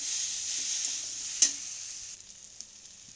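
Cauliflower and potato tossed in fried masala give a steady, close sizzle with a brief sharp scrape of stirring, then the frying settles quieter toward the end.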